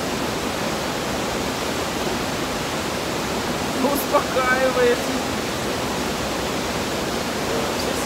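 Steady rushing water flows continuously, close and fairly loud, with a person briefly speaking a word over it midway.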